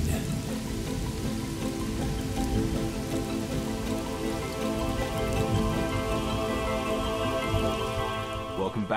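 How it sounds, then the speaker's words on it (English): Steady rain falls and patters on a surface, a dense, even wash of drops that holds throughout, loud and close, with no voices. "Rain."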